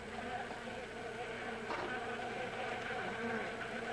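Stingless bees hum around a split-open log hive in the Amazon near Manaus, a steady, close buzzing drone that holds level throughout with a brief sharper buzz midway.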